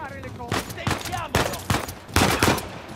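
Gunfire in Uncharted 4, a run of sharp broadband shots in several bursts over a voice and game sounds, loud and close, with short gaps between volleys.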